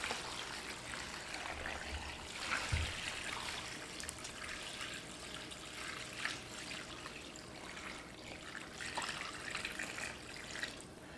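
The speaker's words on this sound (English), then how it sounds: "Add our water to this." Water pours into a roasting pan holding turkey bones for stock, a soft continuous trickle and splash that runs evenly for about eleven seconds at low volume in a quiet kitchen.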